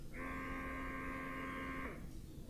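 A Spectra 9 Plus portable breast pump motor runs in expression mode with a steady electric hum for about two seconds, then cuts off, leaving a quiet room.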